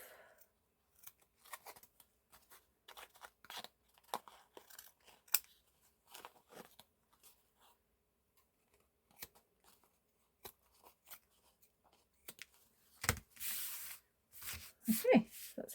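Scissors trim the loose thread tails on a stitched mixed media tag with a series of sharp, quiet snips spread irregularly across the clip, busier and louder toward the end.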